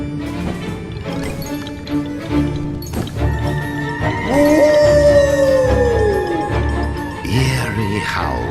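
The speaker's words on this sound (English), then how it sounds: "Eerie howls echoed through the Snacker Bosk's shadowy branches." Eerie, echoing howls in a shadowy game forest: long wavering canine cries rising and falling, layered over a dark ambient music bed and fairly loud.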